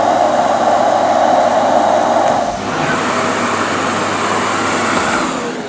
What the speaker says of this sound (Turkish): Elektrikli süpürgeler. Saçınızı böyle güzel toplar.